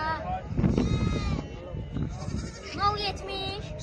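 Goats at a livestock market bleat in wavering calls, several overlapping nearby, while people talk over the animal noise throughout.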